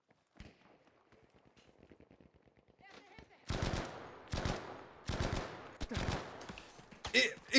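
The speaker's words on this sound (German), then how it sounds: "Ich schieß dreimal" Gunfire in the video game Battlefield V: a rapid, fairly distant rattle of rounds, then loud close bursts of automatic fire and single sharp shots in clusters, with game sounds between.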